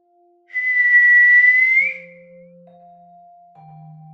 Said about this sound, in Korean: 참았던 숨을 몰아쉬자 입에서 휘파람 소리가 난다.